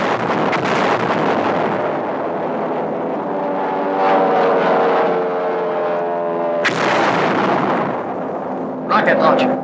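A P-38 Lightning fighter bomber roars loudly and steadily with a droning engine tone, then a sharp, loud burst cuts in near the end, followed by a brief crackling flurry of gunfire.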